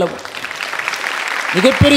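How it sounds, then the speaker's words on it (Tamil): An audience claps for the prize winners at the grand final of a Tamil speaking competition, a steady wash of applause, with a voice coming in near the end. "நீங்கள் எல்லாம் மிகப்பெரிய அளவில் அவர்களுக்கு ஒரு கைத்தட்டு கொடுக்கணுங்க"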